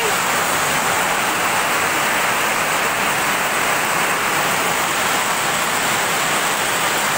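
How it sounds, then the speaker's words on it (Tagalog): Very heavy rain pours steadily during a power outage, a dense, constant roar of downpour with no breaks. "Brown out po kasi siya, sobrang lakas ng ulan, grabe."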